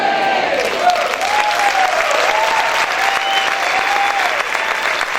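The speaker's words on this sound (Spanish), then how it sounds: "Si ese aplauso es para el Señor, déselo con fuerza." A church congregation applauds loudly, a thick wash of clapping that holds strong and steady throughout, with a voice or tone weaving faintly underneath.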